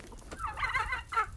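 Turkeys gobble in quick bursts at a backyard fence shared with chickens, a rattling call that swells midway and returns briefly at the end, fairly close and without talk.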